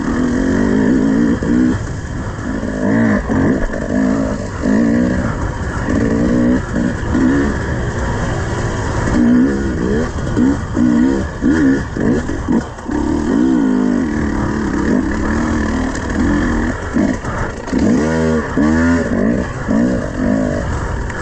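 An enduro dirt bike engine revs hard in second gear on a single-track training trail, loud and close, rising and falling with continuous throttle changes throughout.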